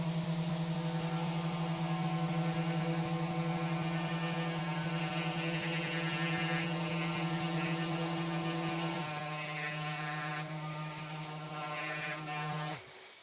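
A Rutlands random orbital sander fitted with an 80 grit disc works across a piece of MDF, giving a steady loud humming whir whose tone and loudness shift partway through before it cuts off at the end.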